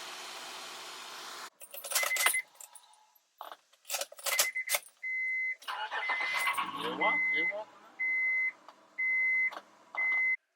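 A 2002 Honda Odyssey after a starter replacement: keys jangle, then brief cranking bursts as the engine turns over and catches, followed by a run of evenly spaced electronic chimes, all fairly close.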